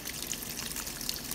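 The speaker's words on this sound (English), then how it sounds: "it does a few spins to drain out all the dirty water" A Panda PAN56MGW2 portable washing machine draining its rinse water, a soft continuous trickling and gushing of water with faint splashy flickers, fairly quiet and heard on its own.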